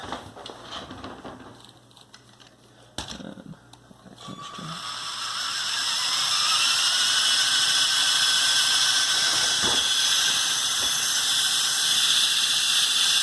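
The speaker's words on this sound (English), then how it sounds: "Getting nice and fast thanks to a buddy motor in each wing, only geared down at the turntable there." Motorized Lego Technic Canadair CL-84 model with a motor in each wing geared down at a turntable, rotors whirring up from clicks and rattles into a steady high-pitched spinning whine that holds near and loud.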